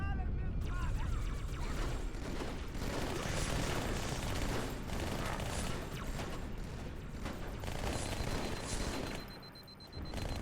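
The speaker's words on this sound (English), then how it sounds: "the new SMG sounds amazing" Sustained rapid SMG fire in Halo 2, dense overlapping bursts of automatic gunfire with mechanical clatter running nearly continuously and loud, easing briefly near the end.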